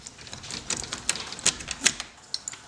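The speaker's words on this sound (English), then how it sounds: "Once those screws are out, the doorknob just pulls right apart." An old doorknob being pulled apart after its screws are removed, heard as a quick run of sharp, close metallic clicks and rattles of loose parts, fairly quiet, with no talking.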